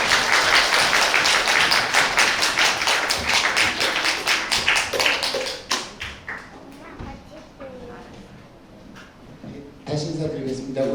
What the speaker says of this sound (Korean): 우리 교수님 무대로 모실 때 큰 박수로 환영해 주시죠.